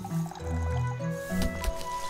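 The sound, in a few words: watering plants in the video game Winkeltje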